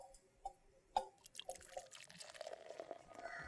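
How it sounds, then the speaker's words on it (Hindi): Water is poured into a cup, starting with a few light drips and splashes and then settling into a steady trickle. It is close and fairly quiet, with no talking. "इसमें पानी डालो।"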